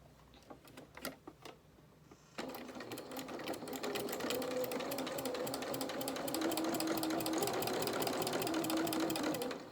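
A sewing machine runs steadily, stitching a pocket onto a pair of dungarees, a close rapid mechanical chatter that starts after a few light handling clicks and continues unbroken.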